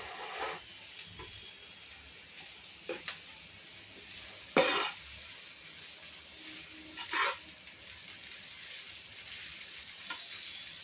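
Vegetable noodles with chili and masala powder are stir-fried, a soft steady sizzle broken by several brief scraping stirs of the pan, quiet overall with no talking.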